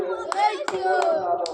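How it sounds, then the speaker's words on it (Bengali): A few sharp hand claps ring out at a steady pace during a children's bottle-sweeping game, with a voice speaking under them. "হাততালি, হাততালি"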